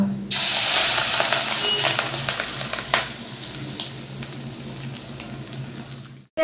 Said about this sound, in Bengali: এরপর সর্ষের তেলে এটা দিয়ে দেব